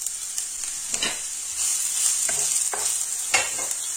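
Onions sizzle in olive oil in a frying pan, a bright continuous crackling hiss close by, with a few stirring scrapes breaking through.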